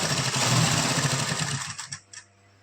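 Sewing machine stitching piping along a fabric edge, a close, steady mechanical whirr that runs for a couple of seconds, then slows with a few last stitches and stops.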